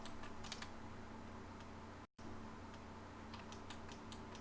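Rapid clicks of a computer keyboard and mouse while entering AutoCAD commands, quiet close taps in short bursts over a faint steady fan hum, with one brief dropout partway through.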